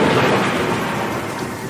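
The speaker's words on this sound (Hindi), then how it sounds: "बाहर होती बरसात में अचानक गरजती हुई बिजली की आवाज से टूटी" Thunder rumbles heavily through falling rain, a loud, dense, continuous roll that fills the short moment without any voices.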